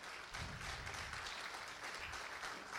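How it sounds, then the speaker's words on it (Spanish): Audience applause welcoming engineer León before his talk, a steady broadband patter of many hands lasting throughout, fairly quiet and distant-sounding in a lecture hall. "vamos a recibir con un fuerte aplauso al ingeniero León para que dé inicio a su exposición"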